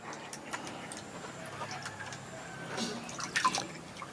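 Homemade liquid urea fertilizer stirred in a container, producing faint liquid swishes, drips and light ticking taps, close but quiet, with no speech.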